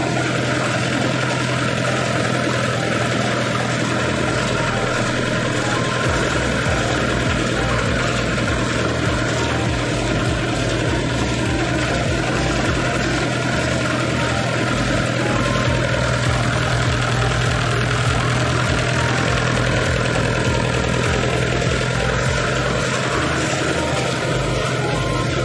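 A rice mill engine runs at a mill in Bohol, Philippines, a loud, steady droning hum with a rhythmic knock that continues unbroken throughout.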